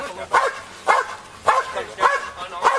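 A police dog barks five times in a steady rhythm, sharp and fairly close, during a tense police standoff at a house, with no speech in between.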